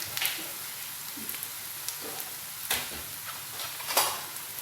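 Food frying in a pan for a potato dinner dish, a steady soft sizzle with scattered crackles and pops, close and moderately quiet.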